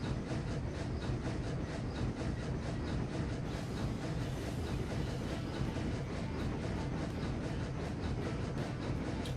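A steam locomotive chugs along in the Railroads Online video game, its rapid chuffs blending into a dense, continuous rhythmic rumble with clattering rail noise, steady and moderately loud throughout.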